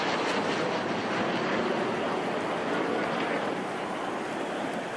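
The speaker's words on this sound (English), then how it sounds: "So we've got the flyover from the 4 Jets" Four jets flying over a ballpark at a baseball home run derby, a broad, steady roar that fills the air evenly throughout, loud and unbroken.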